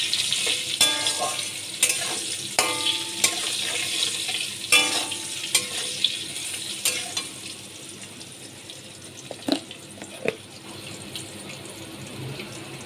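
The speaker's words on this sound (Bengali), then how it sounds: "নুন দিয়ে দিলাম আর হলুদ দিয়ে আমি ভালো করে কচুগুলোকে একটু ভেজে নিচ্ছি" Taro pieces frying in oil with salt and turmeric, a steady sizzle broken by repeated scraping and stirring clinks of a spatula against the pan, fairly close and without talk.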